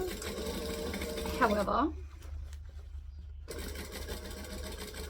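A home sewing machine stitches thick rainbow thread through fabric for a child's hat, a steady mechanical whir that stops partway and then resumes, with a voice talking over it.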